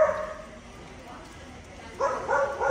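A dog barks and yips in a couple of short bursts at the start and end, moderately loud against a quiet outdoor background.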